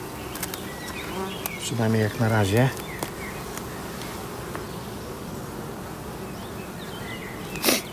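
Honeybees buzz at an open hive in a steady faint drone, while someone speaks briefly in the middle and a few rustles and taps break in near the end.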